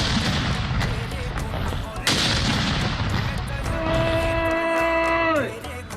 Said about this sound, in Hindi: दारुल-हुकूमत इस्लामाबाद में 31 तोपों की सलामी दी गई।